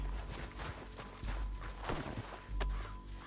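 Horse hooves clopping in Red Dead Redemption 2, a quick uneven run of close thuds and clip-clops over a rough background.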